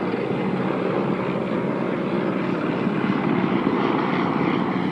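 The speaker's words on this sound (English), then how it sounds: "That was a Russian helicopter" A Russian military helicopter patrols near the administrative boundary line, its engine and rotor a loud continuous droning roar overhead, steady throughout with no speech.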